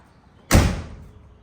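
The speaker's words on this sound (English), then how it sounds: "Door shuts, good seal, shuts pretty well." A suicide door on a VW Beetle with a new interior swings shut in one firm, solid thud that trails off quickly, heard close and alone.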